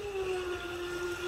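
An electric RC boat, a Delta Force 35 fitted with a 445 Octura propeller and running on a 6S setup, whirs steadily across the water with a thin, high, constant whine at middle distance.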